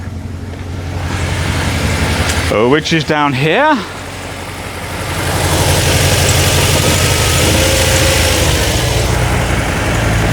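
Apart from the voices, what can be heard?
car engine running roughly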